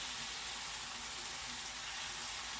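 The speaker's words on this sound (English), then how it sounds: "Even though I have my cast iron pan at low, they are sure sizzling." Pork chops frying in a cast iron pan over low heat give a steady, dense hiss of sizzling that runs on evenly throughout, fairly faint, with no voices.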